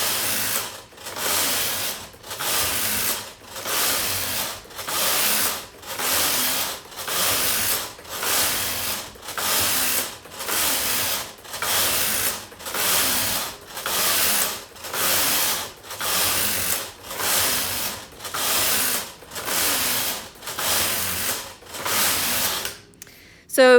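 A single-bed knitting machine carriage is pushed back and forth across the needle bed while tucking stitches, a loud close whirring rasp repeating in regular strokes about once per second.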